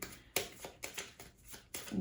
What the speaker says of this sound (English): Let me shuffle those cards